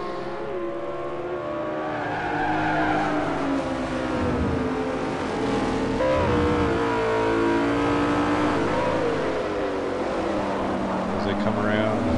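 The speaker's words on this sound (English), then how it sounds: "It is 2008 BMW E92 M3." A 2008 BMW E92 M3 races in a video game, its engine droning steadily and rising and falling in pitch through gear changes, with tyres scrubbing through corners, while someone talks over it.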